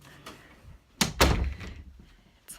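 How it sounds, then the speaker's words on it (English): A door is shut indoors at home, a close, loud thunk followed by a second heavier slam and a brief rattle, with a dog faintly nearby and no talk. "Let me shut the door."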